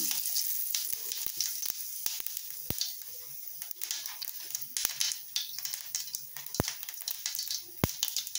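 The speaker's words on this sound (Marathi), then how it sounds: "थोडेसे जिरे घालायचा" A small amount of cumin seeds sizzles steadily in hot oil for a Marathi matki usal, a bright continuous hiss punctuated by sharp pops and crackles.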